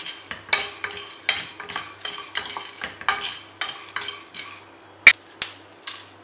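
Fennel, cumin and whole black peppercorns are dry-roasted in a pan and stirred with a metal spoon. Rhythmic scraping clinks repeat about every second, with one sharp knock near the end, close by and with no talking.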